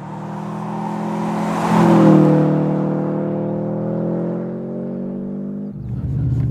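Subaru Impreza 22B rally car engine while driving, a loud flat-four drone that swells as revs rise, then holds a steady tone before easing off and shifting near the end.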